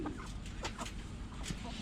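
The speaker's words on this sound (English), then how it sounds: "this is a trio of partridge cochin bantams" Partridge Cochin bantam chickens, a rooster and two hens, cluck softly in short, scattered calls over a low background rumble, close by but fairly quiet.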